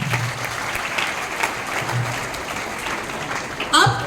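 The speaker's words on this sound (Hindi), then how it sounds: "एक बार इस शुरुआत के लिए जोरदार तालियां।" An audience at a school closing ceremony for an anti-drug campaign applauds steadily under an announcer's voice. A brief louder burst comes near the end.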